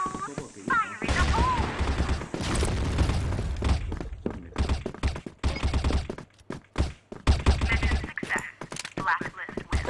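Booming sniper rifle shots from a Barrett M82A1 Noble Beast in the CrossFire shooter on the Suzhou Renewal map ring out in loud bursts between stretches of a player talking.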